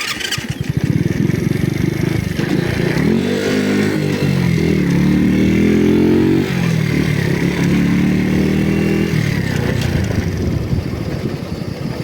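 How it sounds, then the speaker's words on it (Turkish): Mondial 50 SFC mini motorcycle engine, a 50 cc, revving hard and bogging down when the throttle opens suddenly, a loud, close, rough drone that rises and sags without talk. "Gazı bir anda bastınız mıydı böyle boğuluyor"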